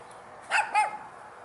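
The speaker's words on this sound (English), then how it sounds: "Annoying dog." A dog barks twice outdoors, two short sharp barks close together at moderate distance, with no talking.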